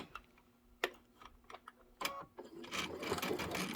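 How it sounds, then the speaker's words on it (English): A belt-driven sewing machine stitches fabric: a few sharp, isolated clicks, then a steady, close mechanical whir of reverse stitching that runs into continuous forward stitching. "I'm going to start with my needle in my fabric, and then I'm going to back stitch, and then we'll go forward"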